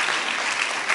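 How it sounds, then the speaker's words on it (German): A lecture-hall audience gives a short burst of dense clapping for three volunteers, steady and fairly close, with no voices over it. "Ja, nochmal kurz Applaus für die 3 Freiwilligen."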